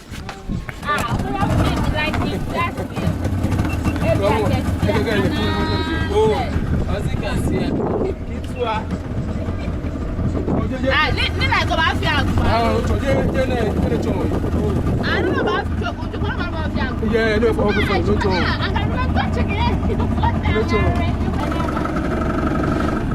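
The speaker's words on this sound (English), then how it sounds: "I wonder, Conrad, if this is the same boat that we went on 5 years ago." A loud boat engine drones steadily throughout, with wind and water rushing past, while people talk over the noise, as the boat approaches a beach in Accra, Ghana.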